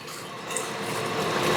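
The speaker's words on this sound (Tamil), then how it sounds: "அந்த கணக்கு நம்ம தண்ணி ஊற்றுறோம்." Water pouring into a large batch of soaked rice for mushroom biryani, a steady close splashing rush that builds slightly louder over a second and a half, with no talk.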